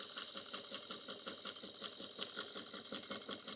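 A sewing machine stitches a zipper onto a boxy bag, giving a fast, steady rapid-fire clatter of the needle at close range with no voices.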